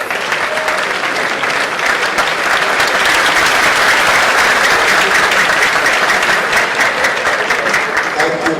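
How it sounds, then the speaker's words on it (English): A lecture audience gives loud, sustained applause for the lecturer in the rhythmic 'locomotive' style, a continuous dense wall of clapping from start to finish. "I think we can do the locomotive applause for the lecturer."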